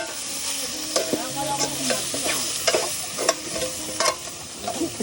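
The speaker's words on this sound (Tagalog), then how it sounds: "Prito lang natin ng unti para masalam nyo yung crunchy." Chicken fries in a pan with a steady, busy sizzle, punctuated by clacks and scrapes of stirring.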